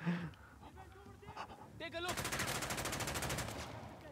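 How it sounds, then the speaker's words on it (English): Blind-fire gunshots in the video game Uncharted: The Lost Legacy, a fast rattling burst of automatic fire after a quieter stretch of game sounds and faint voices. "So you can just blind fire if you want."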